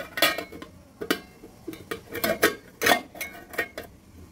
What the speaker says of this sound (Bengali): বক্সটা বন্ধ করে দিচ্ছি।